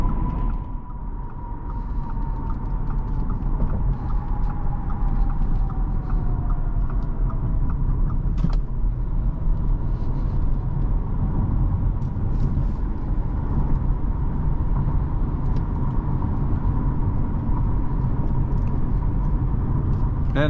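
Steady interior road noise inside a 2024 Audi A4 45 S Line Premium Quattro on the move, a constant low rumble and hiss throughout with faint intermittent clicks.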